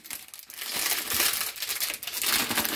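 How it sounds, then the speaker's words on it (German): Close, loud crinkling and rustling as a cinnamon stick is pushed into a paper tea filter, the crackle steady with brief pauses. "Und da machen wir jetzt noch die Zimtstange rein."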